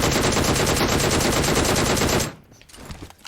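Rapid automatic gunfire from the PUBG Mobile shooter game: a loud, dense burst of rounds for about two seconds, then it cuts off into quieter in-game ambience.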